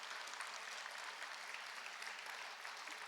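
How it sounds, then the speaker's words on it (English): A dinner crowd at a Lincoln Day event claps steadily throughout, a dense, even wash of applause with no talking. "If you could give them a round of applause."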